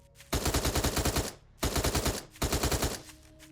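Automatic gunfire in the zombie survival game Night of the Dead: three loud, close bursts of rapid shots, each about a second long with short gaps between, and no talking.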